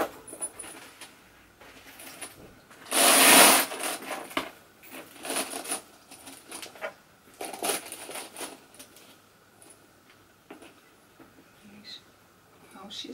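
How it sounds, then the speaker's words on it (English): A Louis Vuitton Surene BB handbag's zipper is pulled shut in one quick, loud rasping burst near the start, surrounded by soft handling rustles and light clicks, with a person speaking nearby. "And I will close the zipper."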